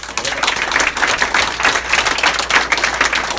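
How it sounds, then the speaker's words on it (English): An audience at an office opening gives a round of applause for a guest, producing dense, continuous clapping from many people, close and loud, filling the whole stretch without speech. "I want to give a big round of applause again to Mike Florio"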